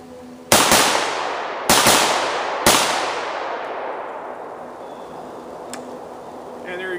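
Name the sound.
VEPR-12 shotgun being fired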